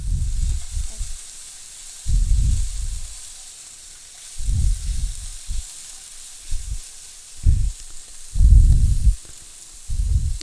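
Onions fry in a pan with cumin and fennel seeds for a vegetable pulao: a steady close sizzle that swells into louder hissing bursts, with no one speaking.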